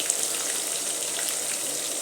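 Meat frying in a pan for spaghetti sauce gives a steady, dense hiss and crackle, even and close, with no talking over it.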